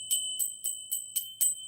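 A small bell, like a bicycle bell, rings six times in quick, evenly spaced, bright metallic dings, close and clear, with no talking.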